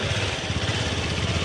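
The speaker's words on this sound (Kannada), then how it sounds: "slow bike race" A motorcycle engine idling and putting along at low revs during a slow bike race at a Krishna Janmashtami village festival, a steady pulsing rumble close by with no talk.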